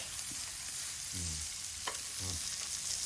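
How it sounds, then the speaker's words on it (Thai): Fish tongue, blanched first so it will not stick, fries in a pan with a continuous bright sizzle, punctuated by a few scraping stirs of a utensil against the pan. "ลิ้นปลาเป็ดชังครับ ลวกก่อนมันจะติดกระทะ"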